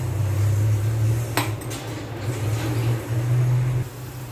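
Ground masala paste and onions are sautéed in a pan for a traditional sambar, with a metal utensil clanking and scraping against the pan over a steady low hum, one sharp knock standing out.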